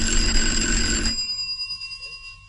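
An old telephone bell rings loudly in one sustained burst, then cuts off and leaves a shimmering, fading ring behind it, with no voices.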